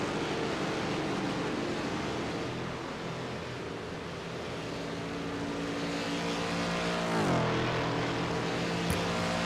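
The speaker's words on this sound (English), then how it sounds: "I think a plane's taking off now." A propeller airplane taking off in the iRacing sim at Daytona drones steadily throughout, its engine tone sliding noticeably near the end, mixed with racing car noise.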